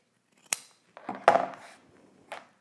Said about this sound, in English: I'm gonna go ahead and trim the bottom, trim the corner